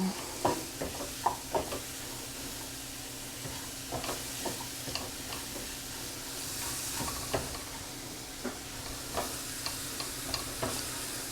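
Leeks frying in butter in a pan give a steady soft sizzle, with scattered sharper crackles and light stirring clicks throughout, close and moderately quiet with no talking.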